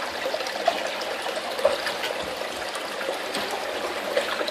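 A pump pushes water into a container, giving a steady trickling, pouring flow with a few small splashy blips, moderately close and alone without speech.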